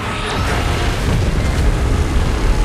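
A beam blast explosion in PUBG Mobile Titan Mode, a loud sustained roaring boom filling the whole clip with rumble and a faint rising whine, without talk.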